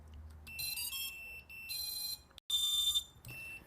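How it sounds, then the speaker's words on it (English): An FPV drone's flight controller beeper sounds in loud, shrill bursts of electronic beeping, several long tones broken by short gaps, close and clear with no talk over it. "You can hear the beeper, even I disconnected the battery, it's still beeping."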